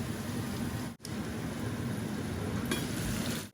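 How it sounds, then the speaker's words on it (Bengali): Spices fry in hot oil while being stirred for Sylheti kochu shak, giving a continuous loud, hissing sizzle with a brief dip near the start and no voices. "আর ভালো করিয়া কষানিও একটু নাড়াচাড়া করি"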